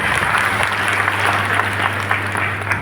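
Sustained applause from a gathered crowd welcoming the chief guest, a city mayor, at a community conference, steady dense clapping with a low hum beneath.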